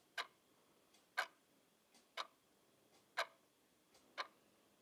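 A wall clock in a room ticks steadily, one sharp tick about every second with fainter tocks in between, clear against near silence.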